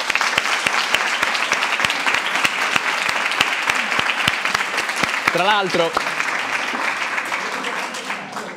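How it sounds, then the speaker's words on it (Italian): Sustained applause from high school students of a humanities liceo fills the room, dense and steady with a few sharper claps standing out; a voice speaks briefly over it near the end as the clapping thins. "Fatevi un super applauso."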